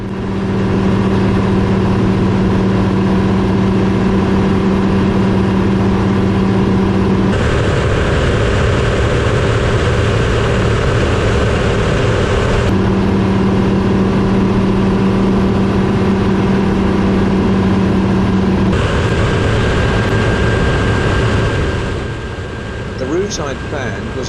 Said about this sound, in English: Time to ease back the throttle, to ease the stress on the engine after the climb